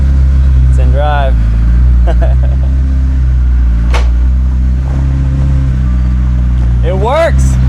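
A McLaren running on a replacement engine bought on eBay idles with a steady low rumble as it is shifted into drive, with voices speaking briefly over it.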